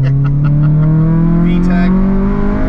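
A 2002 Acura RSX Type S engine revs hard and loud, its pitch climbing steadily in one continuous pull, heard close up from inside the car.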